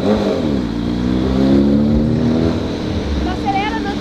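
Engine revving loudly and steadily nearby, its pitch climbing and sliding as the throttle is worked, with voices talking over the noise.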